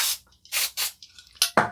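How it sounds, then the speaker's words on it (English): Contact cleaner sprays onto parts of a 1991 IBM laptop in several short hissing bursts, close and fairly loud, with a couple of small clicks between them. "So I'll just spray a bit of contact clean on them"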